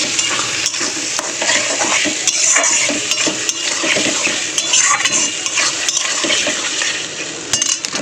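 Chicken masala spices being stirred and fried in a pot, loud steady sizzling with repeated scraping and clinks of a spoon against the metal, close up throughout.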